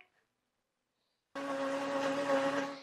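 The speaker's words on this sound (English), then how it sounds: "This is a blender." A kitchen blender starts abruptly after a second of silence and runs with a steady, loud motor whine and whir until the end.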